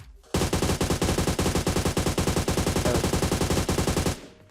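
An AUG A3 rifle fires in a video game at a 100-metre range, one sustained full-auto spray of rapid, evenly spaced loud shots lasting about four seconds and then cutting off, with no talk over it.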